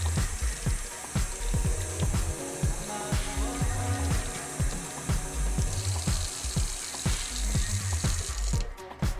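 Running water rinses vehicle air filters in a steady, loud, continuous spray, with repeated sharp ticks and splashes throughout and no speech.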